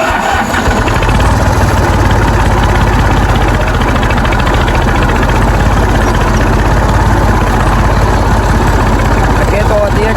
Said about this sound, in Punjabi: ਅੱਗੇ ਤੋਰਦੀ ਟਰੈਕਟਰ ਥੋੜਾ ਯਾਰ